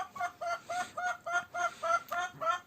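A chicken clucks in a quick, regular series of short calls, about nine in under three seconds, close by and fairly quiet.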